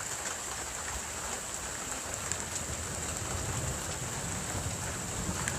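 Steady, heavy thunderstorm rain in Rhône-Alpes, France, pours down continuously, a dense hiss of drops striking surfaces with occasional louder spatters, no voices.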